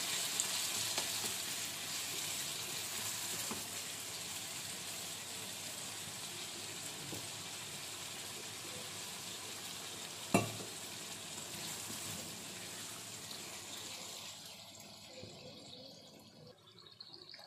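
Masala slowly sautéed in a pan for a Bengali fish dish, a steady soft sizzle and frying crackle with an occasional sharp utensil tap, tapering off at the end.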